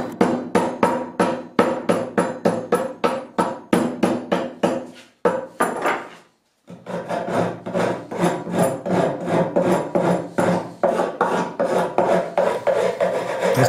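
Wire brush scraping and hammer strikes on a glued laminated wood board being distressed, close and loud, with steady rhythmic rasping strokes and knocks, a brief pause midway, then continued brushing and tapping.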